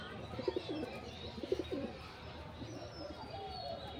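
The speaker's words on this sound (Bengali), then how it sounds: "একটা পায়রা" A hand-fed pigeon coos twice in soft, low bursts about a second apart, close by over a steady murmur of background noise.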